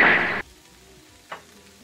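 Onion and tomato hitting a hot frying pan give a loud, broad sizzle for the first half-second, then cut out, with a second brief hiss of frying about a second later.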